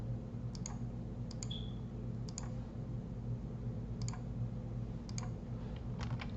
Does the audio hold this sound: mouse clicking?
yes